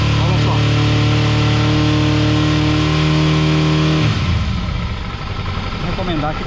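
Motorcycle engine revving up from a steady idle, loud and close, its harmonic drone breaking into a rougher, busier roar as the throttle opens; the bike is being checked for a charging fault and may need a new rectifier.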